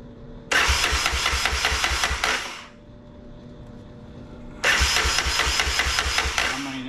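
A Honda ATC 250SX three-wheeler that has sat unused for years, its engine cranking and catching in two loud bursts of rapid, rough chugging with a quieter low idle-like hum between them; no talk over it.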